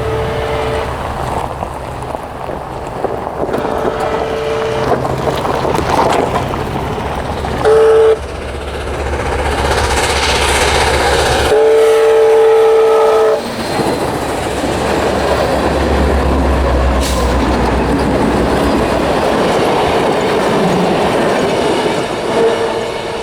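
Canadian Pacific steam locomotive 2816 rolls past near the tracks, a long, loud rumble of wheels and clickety-clack with squealing and a shrill whistle burst partway through, swelling and easing as the train goes by.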